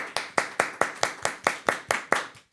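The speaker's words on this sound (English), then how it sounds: "I think you should give yourselves a round of applause" About ten crisp, evenly spaced hand claps from a team giving themselves a round of applause, fairly close and dry, slowing slightly before stopping.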